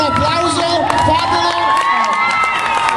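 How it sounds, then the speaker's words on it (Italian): Crowd at a singing contest final cheers and whoops with shouting voices, many of them children, loud and close; clapping is only faint beneath the excited yelling. "Fate un applauso."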